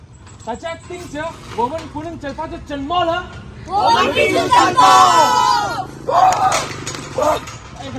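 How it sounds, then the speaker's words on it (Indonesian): Shouting and cheering from a protest crowd, scattered voices rising over a steady babble, swelling louder midway with overlapping raised calls before easing slightly. "Teriakan dan sorakan tidak berhenti terdengar di tengah kerumunan."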